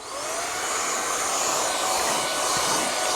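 An INTETURE cordless stick vacuum cleaner, set up as a car vacuum, runs at a steady high-pitched whine and airy roar, close and loud throughout.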